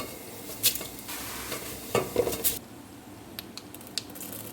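Puffed rice being stir-fried in a pan with curry leaves, giving soft rustling stirs and scrapes with a few sharper clinks of the utensil against the pan, close by and fairly quiet, no talking.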